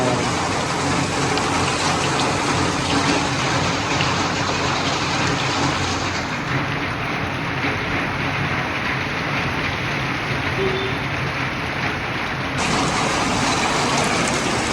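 Steady, heavy monsoon rain pours continuously over a flood-affected market area in Karbi Anglong, Assam, a dense hiss of drops hitting surfaces throughout, loud and close with no pauses.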